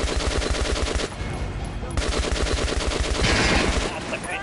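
Rapid automatic gunfire in Metro Last Light Redux, loud bursts of closely spaced shots with a brief pause before firing resumes, dominating the scene without any talk.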